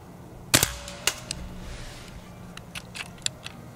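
A Beeman underlever .177 PCP air rifle fires outdoors at a can in windy conditions; one sharp crack is followed by fainter ticks and pops, including a distant impact, with steady wind noise underneath.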